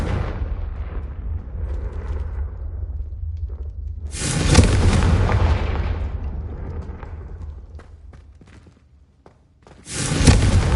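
Confringo spell blasts striking candelabras in a Harry Potter-style video game, two loud booming bursts with crackling debris tails, the first around midway and another at the end, over a steady low ambient rumble.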